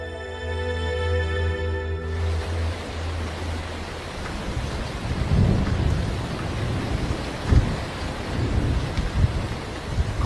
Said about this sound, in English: Cold rain is now falling on the savannah.